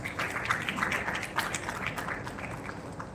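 Audience applause at a national oratory contest as the next contestant is introduced, a steady wash of clapping from many hands, moderately loud and sustained for a few seconds.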